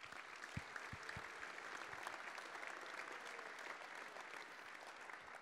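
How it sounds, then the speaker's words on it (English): Audience applause for guests at a live interview with World Cup champion coach Sir Graham Henry, a quiet, distant patter of many hands with a few sharper individual claps early on, continuing steadily. "Let's give them a round of applause."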